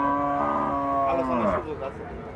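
A cow moos loudly and at length at a livestock market in Pabna, Bangladesh, where pregnant and calf-carrying dairy cows are traded; one drawn-out bellow sliding downward, close by, with crowd noise behind it.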